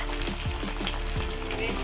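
Chopped onions for lemon rice fry in a pan with a dense, continuous sizzle, close and even, with faint crackles running through it.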